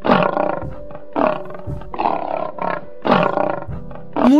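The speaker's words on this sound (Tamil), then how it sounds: "முழங்கிய சத்தம் கேட்டவுடன் பயந்து நின்றான் செலியன்" A lion roars in repeated deep, throaty bursts, about six loud calls in a steady rhythm with short gaps, close and dominant with no speech over them.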